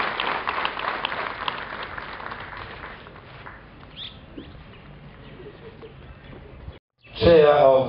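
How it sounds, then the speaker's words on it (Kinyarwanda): An audience at a graduation ceremony claps in a burst of applause that fades into a quieter room, then breaks out loudly again after a brief silence near the end. "Reka nsabe kugira ngo dushimire Imana n'amashyi menshi cyane."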